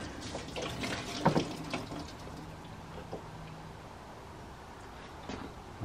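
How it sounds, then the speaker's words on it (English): Coolant drains from a BMW E90 3 Series cooling system as a faint, steady trickle and splash of liquid, with a few brief knocks near the start. "That way I'll drain more coolant anyway."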